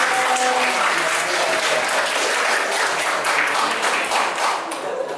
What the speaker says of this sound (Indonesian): Tepuk tangan untuk Steven.